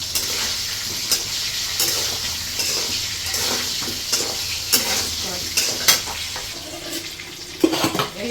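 Potatoes fry with turmeric and salt in a pan, a steady close sizzle broken by repeated sharp scrapes and clinks of a spatula stirring against the metal throughout.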